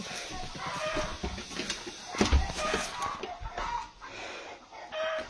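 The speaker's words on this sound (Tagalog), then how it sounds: "Puntahan ko muna yung mga manok kasi may ingay sila." Chickens cluck repeatedly nearby in a busy, irregular chatter, with a sharp louder squawk partway through and some farmyard rustling.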